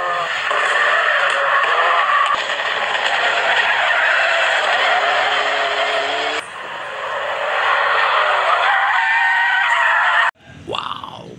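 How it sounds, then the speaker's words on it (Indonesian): A sports car roars past at speed at a toy-vehicle gathering, a loud sustained engine whine with a brief cut midway, then a sharp stop and a short squeal near the end, with no voices. "Wih, ini ada mobil sport."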